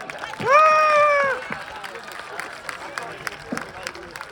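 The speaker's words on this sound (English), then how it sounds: "Let's give Timmy O a round of applause." At a school assembly, a loud drawn-out cheer or shout from the crowd rings out first, then light, scattered clapping follows for a guest being welcomed.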